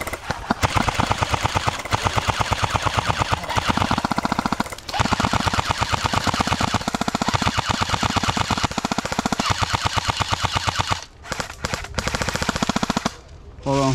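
An airsoft LMG fires long, loud, rapid bursts, a dense rattling stream of shots that runs almost without a break, then stops briefly and resumes in shorter bursts near the end.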